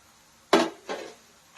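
Crispy homemade potato chips are stirred in a pan, giving two short crunchy, scraping rattles about half a second apart, close and fairly loud against quiet.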